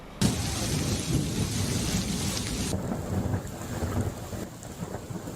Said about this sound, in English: Lightning and thunder and shaking the house kind of thunder.